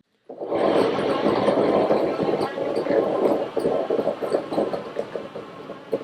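A homemade sphere machine switches on and runs with a steady, loud whirring roar that holds for several seconds, with a faint rhythmic throb inside it and no voices over it.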